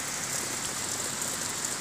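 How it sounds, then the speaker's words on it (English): Light rain at the tail end of a grassland thunderstorm, a steady close hiss of drops falling on surfaces, even and continuous throughout with no voices. "You can see the rain, it's not raining very heavy anymore."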